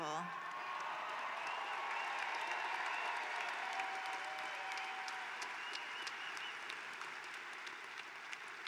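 A commencement crowd applauds the graduates with steady, continuous clapping that sounds broad and somewhat distant, holding at an even level throughout.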